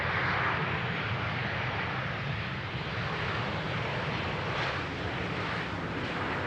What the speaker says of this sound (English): Now we see a textbook Dutch pilot landing over here.